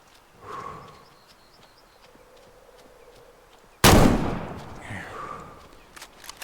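A single loud, sharp hunting-rifle shot in the game Way of the Hunter cracks out after a quiet stretch and rolls into a decaying echo, with faint ambient sounds around it.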